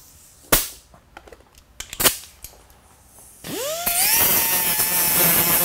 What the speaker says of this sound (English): I'm going to take and hit it with the flapper wheel here